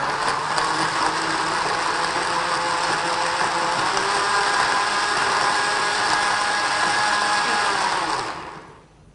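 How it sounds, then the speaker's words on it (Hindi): A blender blending soup whirs at a steady high pitch for several seconds, then winds down and stops near the end. "ब्लेंडर में आपने ब्लेंडर में ब्लेंड कर दिया जी इसको"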